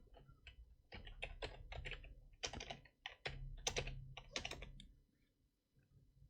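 Code being typed on a computer keyboard, a quick close run of crisp key clicks in uneven bursts that trail off into quiet.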